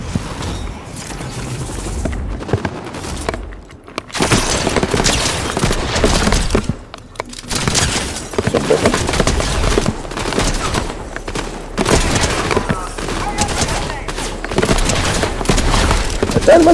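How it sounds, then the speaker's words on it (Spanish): Rapid gunfire in a Fortnite match near the storm edge, dense bursts of shots and booms crackling almost nonstop with short pauses, loud and close, with a voice talking over parts of it. "Donde hay disparos justo en el borde de la tormenta"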